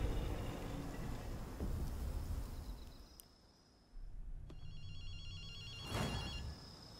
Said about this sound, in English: you hear a phone ringing?